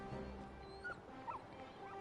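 Torgal the dog from Final Fantasy XVI whimpers softly in short, high plaintive whines over a low ambient game soundtrack, with a couple of brief yips rising near the middle.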